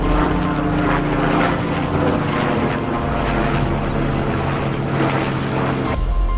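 Loud, continuous helicopter rotor noise, a steady thumping drone with engine whine, close and unbroken until it cuts off near the end.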